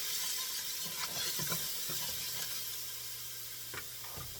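Meat and garlic sizzling in a pan for Puerto Rican pasteles, a quiet steady frying hiss with a few soft stirring clinks, no talking.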